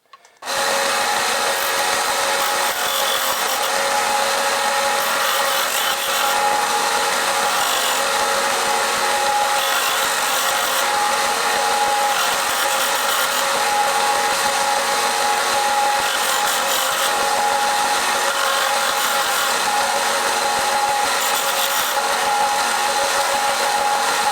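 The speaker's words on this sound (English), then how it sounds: "I'm gonna sand it down to that line, hopefully, fingers crossed." Steady, continuous abrasive rasping as a Stuart 10V steam engine eccentric strap is sanded down, a constant close-up grinding hiss that runs unbroken for about twenty-four seconds with no talking.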